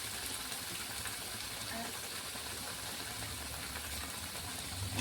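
Fish curry masala bubbles in a pan on the stove, giving a steady, soft hiss and simmer that stays even throughout without voices.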